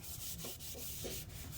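A paper towel soaked in 91% isopropyl alcohol is rubbed down a tumbler, giving soft, faint wiping strokes in an even back-and-forth rhythm, close up and without voices.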